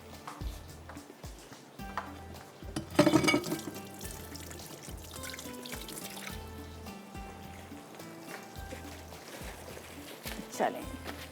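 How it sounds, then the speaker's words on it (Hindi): Chapli kebabs frying in a pan with a soft, steady sizzle and crackle, fairly quiet under someone talking throughout. "थोड़ा सा ये फ्राई हो रहा है"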